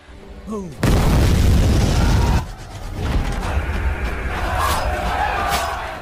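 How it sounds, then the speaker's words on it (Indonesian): A bomb going off in a war film, a sudden loud, sustained boom that holds for about a second and a half, then drops to a lingering rumble with panicked crowd noise. "mata-mata si Paji yang berhasil masuk ke Mavalhirdas berhasil meledakkan bom di sana, membuat semua orang panik"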